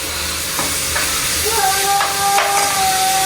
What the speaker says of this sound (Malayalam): ആ ഉള്ളിലേക്ക് കുറച്ച് കറിവേപ്പിലയും കൂടി ഇട്ടിട്ട് നന്നാക്കി ഒന്ന് വഴറ്റിയെടുക്കട്ടോ